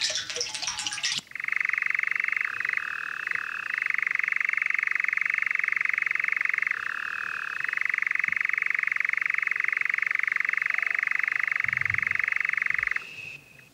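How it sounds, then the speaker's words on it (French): A nightjar churrs on a summer night, one long unbroken trill sustained for over ten seconds, wavering slightly in places, after a brief rustle at the start; clear and fairly close, with no talking. "L'engoulevent qui remplit la nuit d'été."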